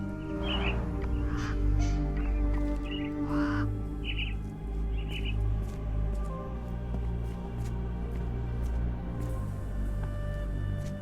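Caged mynah birds in the video game Sherlock Holmes The Awakened give repeated short harsh calls over a steady ambient drone, several separate squawks in the first half and sparse clicks later.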